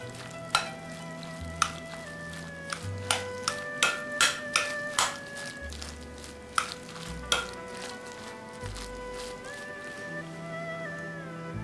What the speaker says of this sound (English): 2 eggs and the oyster sauce. And mix well.